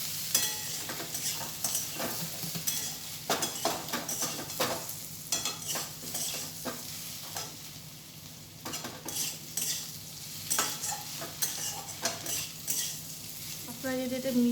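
Kudli vegetables with coconut fry in a pan, a soft continuous sizzle under frequent close scrapes and stirring strokes of a metal spatula, with a few clinks of utensils near the end.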